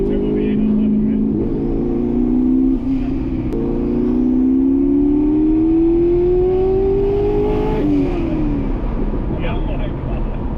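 A cheap truck with a twin turbo V8 accelerates hard from inside the cab, engine tone climbing steadily through a long pull, briefly dipping at a shift, then rising again, loud and continuous with voices talking over it.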